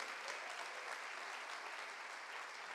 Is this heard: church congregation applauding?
yes